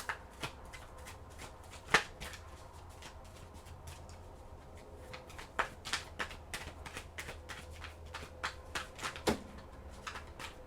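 Tarot cards being shuffled and drawn by hand, soft riffling and sharp snapping flicks scattered irregularly across the clip, close and quiet with no talking.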